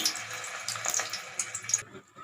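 Small bits of sago batter dropped into hot oil for sabudana pakoda, giving a steady hissing sizzle with brief crackling bursts that fades off near the end.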